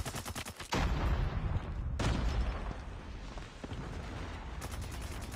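An SMG with heavy recoil rattles off loud, rapid sustained bursts in Call of Duty: Mobile, the dense fire running almost unbroken across the clip with a short gap near the middle.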